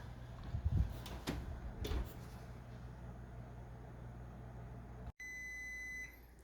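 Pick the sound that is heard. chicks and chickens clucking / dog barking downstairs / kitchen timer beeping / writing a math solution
kitchen timer beeping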